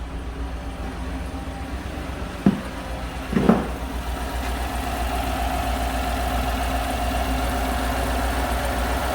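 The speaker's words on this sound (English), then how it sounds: "Has a tick in the engine and a misfire." A 2017 GM truck's 5.3 engine idles with a low, steady rumble and an engine tick, broken by a couple of sharp misfire knocks or stumbles near the start, then settles into a constant drone.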